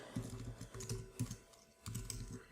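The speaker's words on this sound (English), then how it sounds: "So I'm going to type in Adam Smith" Quick bursts of typing on a computer keyboard while filling out a web form, close and fairly quiet, with brief pauses between the clusters of keystrokes.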